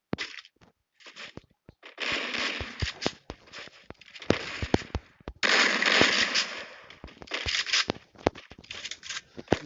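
Gunfire in the Clash Squad gun game of a mobile shooter, with bursts of rapid automatic shots and scattered single cracks separated by brief quiet gaps, loud and close.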